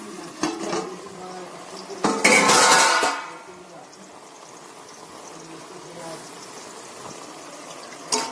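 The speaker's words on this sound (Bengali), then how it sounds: "এবারে কড়াইটাকে খুলে দেখব" A lid is lifted off a cooking wok holding a bottle gourd stem and mustard dish, giving a few close metallic clatters and scrapes, then a quieter simmering background.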